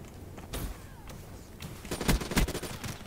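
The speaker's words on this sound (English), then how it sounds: "That KN44 is such a powerful gun. It shoots so quickly" Rapid KN44 assault rifle fire in the video game Black Ops 3, bursts of fast shots that grow heavier and louder toward the end, with no talking over them.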